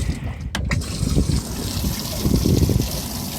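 A livewell aerator on a 2020 Bass Tracker boat running, with a close, steady rush and trickle of pumped water and a brief clunk near the start.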